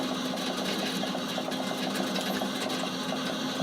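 A thirty-year-old refurbished plotter prints, its motor whirring in a steady mechanical drone with a rapid, even buzzing pulse, close and loud throughout.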